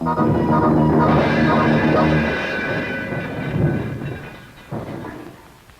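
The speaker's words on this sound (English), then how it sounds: "Finally, a wheel jumps the tracks, and then..." A 1965-era narrow-gauge train on two-foot-three-inch track with decayed ties and spread rails, a wheel jumping the rails: loud rumbling, grinding rolling noise that fades over several seconds, ending with a sharp thump.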